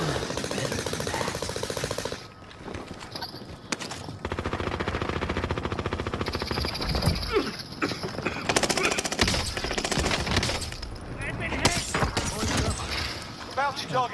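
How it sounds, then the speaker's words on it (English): Bursts of close automatic gunfire and rattling shots in Call of Duty Warzone, coming in rapid strings with short gaps, loud and gritty, while players talk over the action. "Oh, we're shooting at each other. Someone's sniping at me."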